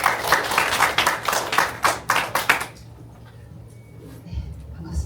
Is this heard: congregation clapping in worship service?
yes